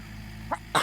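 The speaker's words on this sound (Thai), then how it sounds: "จามแต่เช้าฝุ่น" A man sneezes outdoors in a morning garden where dust is in the air, a sharp, close burst preceded by a short breathy catch, heard over faint steady background noise.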